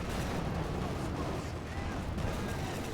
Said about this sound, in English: And there you go, incendiary bombing run here against von Ivan